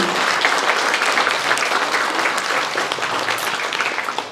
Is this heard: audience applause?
yes